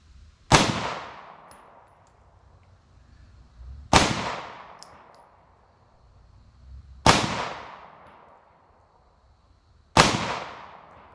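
Four single shots from a Ruger concealed carry pistol are fired at a target outdoors, each one a sharp, loud crack with a decaying ring, spaced about three seconds apart.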